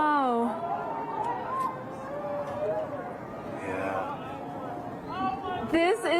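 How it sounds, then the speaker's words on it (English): A crowd of solar eclipse watchers at an annual ring-of-fire eclipse in 2023 shouts and cheers, with excited voices rising and falling over continuous crowd chatter. "You can hear people screaming in the background. People are so excited."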